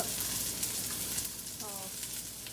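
Roasted pork sizzles in a pan, a steady close frying hiss with faint stirring scrapes and a brief murmur of voice.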